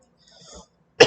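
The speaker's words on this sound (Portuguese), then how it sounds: "Deixa eu até tossir aqui." A single sharp cough at the end, loud and close, after a stretch of quiet breathing and faint mouth sounds.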